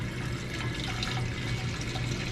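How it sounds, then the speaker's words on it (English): Cooled homemade root beer liquid is poured carefully off a sludge, giving a steady, close trickling and splashing of liquid that continues without a break, with no talking. "now I just want to very carefully pour off this liquid"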